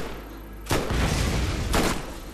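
Barrel blowing up when shot in the video game Borderlands: two loud, broad bursts about a second apart, each booming over a rumbling game soundscape, with no talking.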